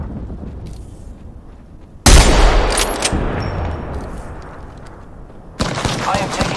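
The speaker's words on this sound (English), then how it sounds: "Opening fire on our prey." Heavy bursts of automatic gunfire in the shooter Apex Legends, erupting suddenly after a quiet stretch, then a second loud volley near the end, close and harsh with in-game voices mixed in.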